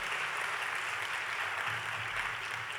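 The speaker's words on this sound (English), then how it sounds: "The reason you're applauding him is because he is a real hero to his nation." A convention audience at the Youth Convention of Pakistan applauds Asad Hashmi, a dense, even hiss of many hands clapping at a distance without distinct individual claps.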